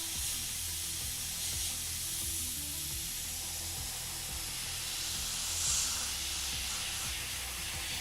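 An airbrush spraying camouflage paint onto a 1/35 scale Fennek military vehicle model, a continuous close, even hiss of air and paint with a low background hum, no pauses across the stretch.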